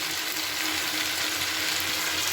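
Ground spices frying and being stirred with mixed vegetables in a pan, a dense, steady sizzle with faint scraping, continuous and close.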